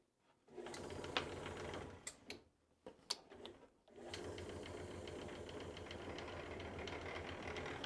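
Motorized knife and chisel honing machine running steadily for several seconds after a few clunks and brief starts, with a continuous mechanical whir and rapid rhythmic ticking close up.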